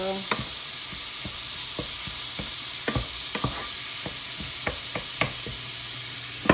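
Ground pork browns in a hot pan with a steady close sizzle, while a utensil scrapes and taps against the pan in irregular strokes as the meat is stirred.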